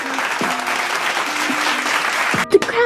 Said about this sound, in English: Get round of applause.